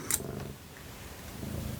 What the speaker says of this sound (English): My cat has just started purring really loudly